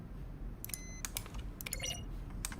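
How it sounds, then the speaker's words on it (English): Button sounds from The Stanley Parable, each a keyboard keystroke layered with a short synthesized tone, play as a scattered series of sharp clicks with bright ringing pitches over a low steady hum. "Button sounds, a selection of the sounds used throughout the game when buttons are pressed. Each sound is a mix of keyboard stroke and a synthesized tone."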